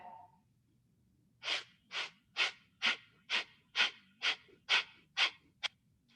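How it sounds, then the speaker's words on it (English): Deep yoga breathing, about ten strong rhythmic breaths in and out at close range, each a loud airy rush evenly spaced at roughly half-second intervals, following a quiet start with a faint brief tone. "Take a full breath in. Full breath out."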